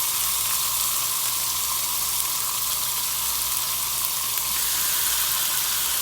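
Jarred roasted peppers cooking with onions in a pan, a steady, even sizzle and hiss that holds at a constant level throughout, close and alone.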